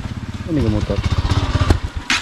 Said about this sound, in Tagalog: Ini motor.